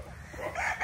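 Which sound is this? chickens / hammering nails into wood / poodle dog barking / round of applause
chickens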